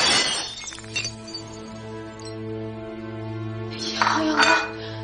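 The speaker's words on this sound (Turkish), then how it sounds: "Ya kırıldı tabak." A plate breaking in a home kitchen, a bright crash of shattering crockery at the start, then ringing tones and a second clatter of pieces near the end, with no talk.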